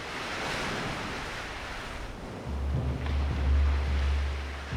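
Ocean waves surge along a rugged limestone shoreline into natural tidal pool basins at Queen's Bath, a steady broadband wash with a deep rumbling swell building in the second half, loud and continuous with wind buffeting the microphone.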